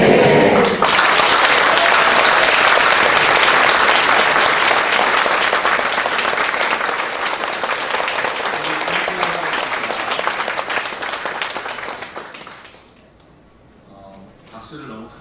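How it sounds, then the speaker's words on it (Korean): Loud, dense applause from a congregation fills a Korean church during a pastor's installation ceremony, sustained for about twelve seconds before fading to quiet, with a brief stir near the end. "박수를 너무 크게 치셨습니다."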